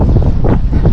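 Steady wind buffeting the microphone of a cyclist riding into a strong headwind on a flat road, a loud continuous rumbling roar with gusty swells throughout.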